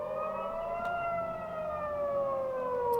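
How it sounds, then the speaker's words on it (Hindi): Air-raid sirens sounding over Jerusalem, Israel, a steady wailing tone that slowly falls in pitch, heard from a distance over a constant background hum, with no talk. "sirens sounding over Jerusalem earlier"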